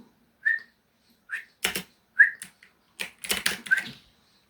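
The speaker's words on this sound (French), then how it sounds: "Je t'ai vraiment sifflé là." A person whistles short, clear tonal notes, close and moderately loud, interleaved with sharp clacking bursts that sound like keyboard typing.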